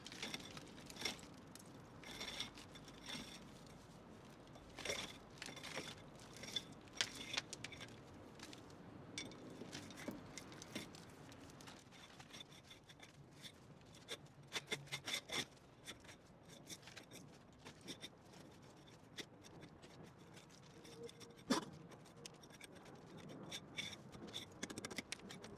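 Hand raking out an old cement mortar joint that has turned to sand, a steady gritty scraping with irregular sharp scratches and clicks, close and fairly quiet, continuing for the whole stretch.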